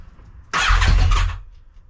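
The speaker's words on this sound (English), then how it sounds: "let's give it a bar, give it a blast." A Yamaha XJR 1300 motorcycle with throttle position sensor trouble gives one short, loud rev of under a second, a rough low engine roar that cuts in abruptly and then fades quickly.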